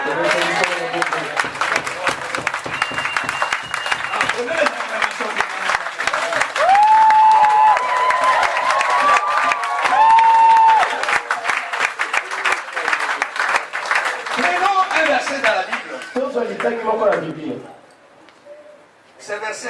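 A French-speaking congregation in an apostolic mission church claps in sustained, lively applause with voices and cheers mixed in, holding steady before tapering off near the end.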